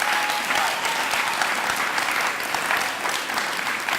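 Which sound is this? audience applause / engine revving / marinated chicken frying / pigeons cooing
audience applause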